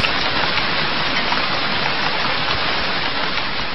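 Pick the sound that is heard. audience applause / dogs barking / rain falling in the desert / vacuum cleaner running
rain falling in the desert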